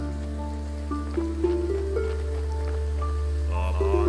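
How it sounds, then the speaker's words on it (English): Steady rain falls in the Graveyard Keeper video game, a soft continuous patter beneath melodic in-game music, with no talking over it. "Oh, it's raining."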